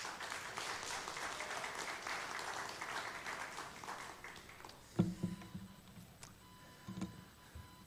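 A church congregation claps in welcome as the pastor comes forward, a steady round of applause that fades out, leaving a few scattered knocks and handling sounds.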